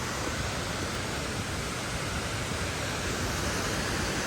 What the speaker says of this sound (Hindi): तो फाइनली जी पार्वती बाग वाली झरने का पहुँच गए।